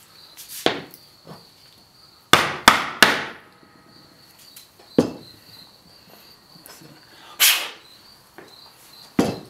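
Bearings are tapped into an HPI Baja 5B SS RC car, giving a handful of sharp, isolated knocks at irregular intervals, close and distinct, over a quiet background with a faint high insect-like whine.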